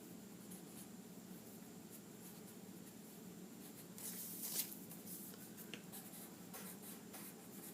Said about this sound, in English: I drew squiggly lines over the squiggly lines